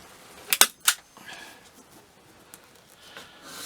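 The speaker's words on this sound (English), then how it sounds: "Staple it." A staple gun fires three sharp, close snaps into the upholstery of a chair under repair, two in quick succession and then one more, followed by quiet handling noise.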